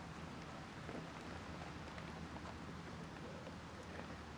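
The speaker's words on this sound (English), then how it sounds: "This rain sounds like it's getting heavier out on the golf course" Steady rain falls on an open golf course during a ladies' professional championship round, a dense continuous hiss that stays even and unbroken throughout with no talk.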